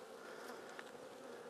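Honey bees crowd a hive frame of capped honey, giving a continuous soft, dense buzzing hum close by with no voices.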